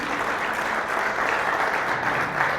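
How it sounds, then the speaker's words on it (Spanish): A church congregation claps together in a steady, dense wash of applause that holds evenly throughout, with no voices standing out. "Sí, denle un aplauso a Dios"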